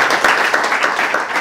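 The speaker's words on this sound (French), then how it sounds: "Encore applaudissements s'il vous plaît." An audience applauds, many hands clapping in a dense, continuous patter that stays fairly loud throughout.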